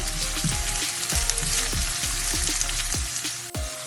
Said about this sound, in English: I'm just going to let this fry for a minute or two